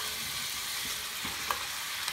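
Onions browning in a pot for chili, a soft steady sizzle with a couple of small pops, fairly quiet and close, with no one speaking.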